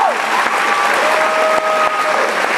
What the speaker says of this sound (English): So definitely give a round of applause to the staff that's here now.